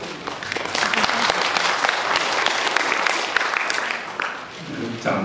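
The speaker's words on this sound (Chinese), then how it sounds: "掌声稀稀落落的，" Applause from the audience at a health lecture on colorectal cancer, a steady burst of clapping lasting several seconds before tapering off, with some voices mixed in.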